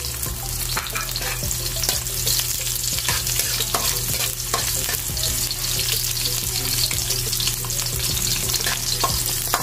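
Garlic sizzles in hot oil in a pan while being stirred, the start of a chicken and chayote sauté, a constant close frying crackle with scattered scraping stirs and no talking.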